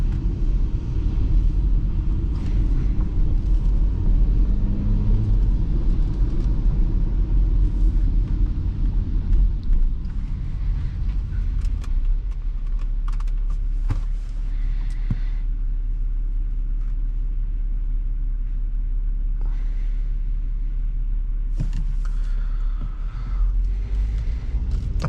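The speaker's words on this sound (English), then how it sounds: "I think these were one of the coolest engines that Audi has put in these cars with the supercharger." A 2016 Audi Q5 3.0T with a supercharged engine drives along, its steady low rumble and road noise continuous throughout, with faint clicks and cabin sounds on top and no talking.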